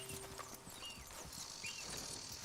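Steady clip-clop of a horse's hooves walking in Red Dead Redemption 2, quiet and close, with chirping birds and outdoor ambience filling the background.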